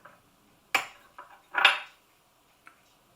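Chunks of butter dropped into a mixing bowl for shortcrust pastry, a few sharp clattering knocks against the bowl spaced apart, close and clear in a quiet kitchen.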